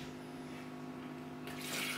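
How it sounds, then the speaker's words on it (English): Water poured by a young child into a container at home, a soft steady trickle and splash that swells louder near the end. "and then Jackson, you can pour the water and help mommy"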